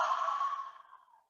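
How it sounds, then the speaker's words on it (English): A long, soft exhale released during a yoga session, breathy and close, tapering gradually to silence. "And exhale, release."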